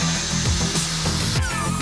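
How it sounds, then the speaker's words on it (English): Angle grinder grinding down welds on repair plates on a Mk1 Ford Escort, a loud, close, continuous high whine with shifting pitch as the disc bites into the metal. "I'm gonna hit those plates with a grinder now and just see if we can tidy things up a little bit"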